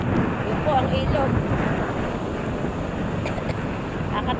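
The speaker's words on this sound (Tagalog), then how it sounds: "Sobrang lalaki po ng alon guys." Steady roar of wind and large ocean surf, broadband and continuous, with big waves rushing throughout and no voices.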